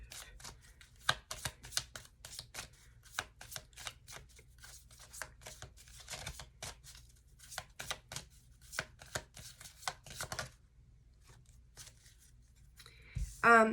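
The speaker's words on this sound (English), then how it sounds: "When I was shuffling the cards" Tarot cards being shuffled by hand, a steady run of crisp riffling and tapping bursts up close, quiet between bursts, with a brief louder knock at the very end.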